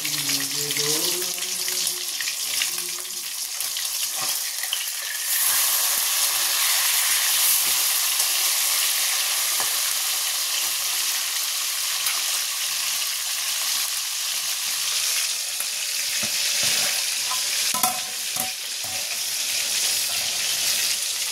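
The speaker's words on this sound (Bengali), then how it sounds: "এদিকে মাছ ভাজা বসিয়েছি" Steady hiss of food frying in a pan, continuous and close, with brief voices and faint clinks early on.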